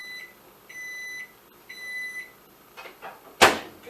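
Microwave oven keypad emitting a series of short electronic beeps, three evenly spaced tones, followed by soft handling clatter and a sharp loud click or thud near the end.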